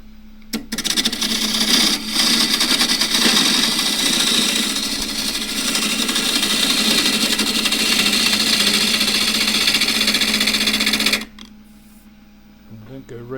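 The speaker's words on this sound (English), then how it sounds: "roughing down as usual with a 1/2 inch spindle gouge." A spindle gouge roughs down a camphor laurel blank on a wood lathe, a loud, continuous scraping and humming cut that runs steadily for about ten seconds, then stops to leave the quieter machine hum.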